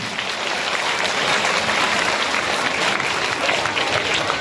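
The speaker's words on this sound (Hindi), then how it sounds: "निवेदन करता हूं जोरदार तालियों से कीजिए" Steady, loud audience applause fills a school Republic Day ceremony in Nimbahedi, a dense wash of clapping from a gathered crowd that holds evenly throughout with no pauses.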